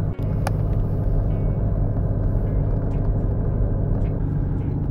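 Steady low rumble of a car driving along a road toward an apiary in sub-zero weather, heard from inside with continuous engine and tyre noise, a brief click near the start and no talking.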